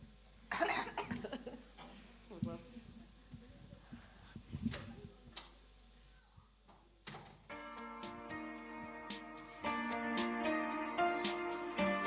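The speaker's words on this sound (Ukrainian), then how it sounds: "Так, прокашлюйся." Several sharp coughs and throat clearing from a person preparing to sing a Christmas song, spaced out close to the microphone, followed by faint instrumental music starting up.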